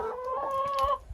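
A broody pet hen named Cardi B, held in a broody jail, gives a near, drawn-out tonal clucking call lasting about a second, close to the microphone with faint background noise.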